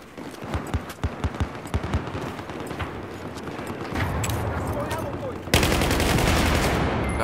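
Rapid video game gunfire rattles in bursts during a capture-the-flag match, dense and loud, shifting into heavier sustained firing toward the end.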